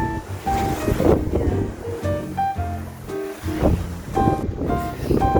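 Sea waves surge and wash into a small seaside cave on a Northern Ireland coast, a loud, continuous rushing swell with wind noise.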